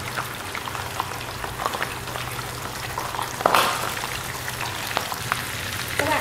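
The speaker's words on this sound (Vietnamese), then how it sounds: "Dầu ăn đã sôi rồi, mình sẽ cho thịt vào chiên." Pork belly fries in hot cooking oil, a steady dense sizzle and crackle with a louder spitting burst midway, close and alone without talk.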